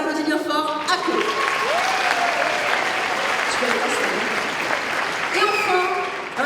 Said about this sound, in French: On l'applaudit bien fort, Ako.